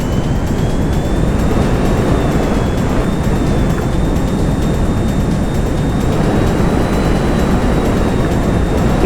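Fighter jet flying in GTA 5 Online, a loud continuous engine roar with a steady high whine that persists without break, no talk.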